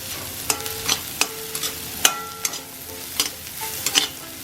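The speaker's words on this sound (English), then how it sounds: "So it's more than 5 minutes now and the onions are almost half cooked." Onions frying in a pan while being stirred, with a steady soft sizzle broken by sharp, irregular scrapes and taps of the utensil against the pan, close and clear with no talking.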